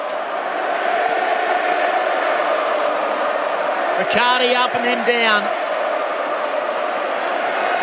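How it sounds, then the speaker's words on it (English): A stadium crowd at a Fremantle versus GWS AFL match roars in a loud, steady wall of sound, while a commentator talks over it throughout. "Listen to that crowd."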